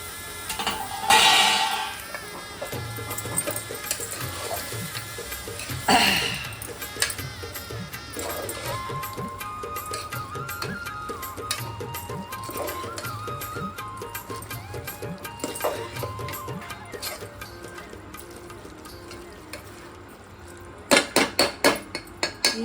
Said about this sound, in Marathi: आता याच्यात ही बाजरी टाकायची. परतून घ्यायची.